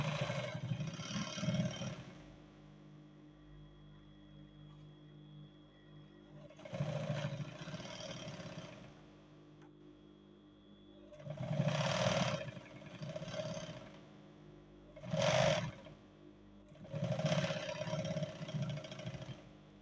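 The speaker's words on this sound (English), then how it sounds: "Then I'll sew." A sewing machine stitches cargo pants in five separate bursts of whirring, each lasting one to two seconds, with quieter pauses between them, close and moderately loud without talk.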